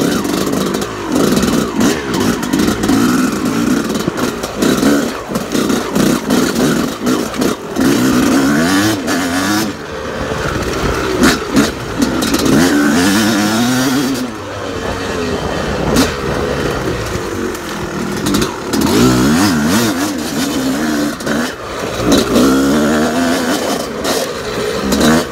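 A motorcycle engine runs steadily through a lap of a sandy moto ranch track, revving up and easing off repeatedly, close and loud throughout.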